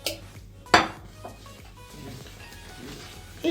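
A spoon works flour and water into gözleme dough in a bowl, giving a few sharp clinks against the bowl followed by soft, muffled scraping and mixing sounds up close.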